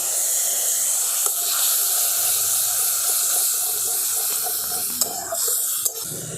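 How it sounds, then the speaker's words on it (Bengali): Tomato and spices sizzle in a pan as a little water is added, giving a loud, continuous steamy hiss with a few faint clinks near the end. "অল্প একটুখানি জল দিয়ে কষিয়ে নিচ্ছি।"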